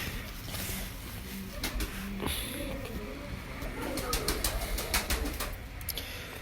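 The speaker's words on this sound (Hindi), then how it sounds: "बहुत अच्छे कबूतर हैं माशाल्लाह" Sialkoti pigeons, an agile breed, coo and flutter in a loft, with soft repeated calls and occasional wing patter close by over steady background noise.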